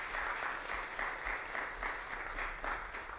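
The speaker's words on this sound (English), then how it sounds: "Give her a round of applause." At a 2019 Poetry Out Loud high school recitation competition in Monterey County, an audience claps in a sustained, fairly faint round of applause from a crowd of many hands.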